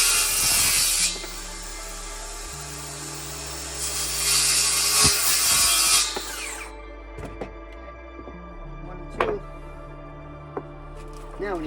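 Back-and-forth rubbing strokes of a hand saw cut into wood during a van camera mount build, loud and close for several seconds, then giving way to quieter handling knocks and low talk.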